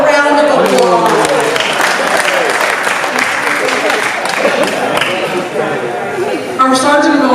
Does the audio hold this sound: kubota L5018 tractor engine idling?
no